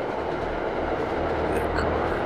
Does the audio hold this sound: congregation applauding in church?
no